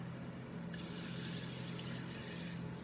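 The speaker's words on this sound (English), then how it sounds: "I'm gonna put warm water inside my abacha" Warm water pours onto dried abacha (shredded cassava) in a bowl, a steady rushing splash that starts abruptly and runs on evenly to the end.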